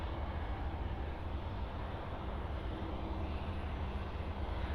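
Jetstar airliner on its takeoff roll, a steady broadband jet roar heard at a moderate distance, fairly even and faint with no voices over it.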